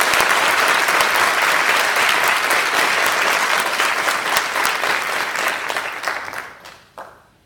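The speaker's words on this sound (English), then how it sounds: "Can we get a round of applause for them?" A school audience at a fifth grade promotion ceremony applauds the staff with sustained, dense clapping that holds steady, then thins out and fades to a few last claps near the end.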